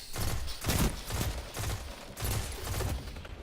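Pulse rifle firing in Destiny 2 Forsaken, repeated short bursts of shots in quick groups with brief gaps between, loud and close.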